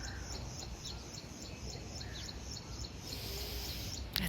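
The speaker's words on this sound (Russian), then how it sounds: "Голуби, попугайчики, слышите, как поют?" Pigeons and parakeets call and chirp in a garden in Muscat, Oman, faint, scattered tweets over a steady hiss of background noise, without voices.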